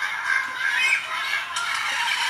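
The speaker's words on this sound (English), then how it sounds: "Here's a little Angry Birds." Angry Birds game sounds playing on a Dell Streak, a busy stretch of squawky bird-like chatter and clucks with a brief clatter near the end, fairly loud and with no talk.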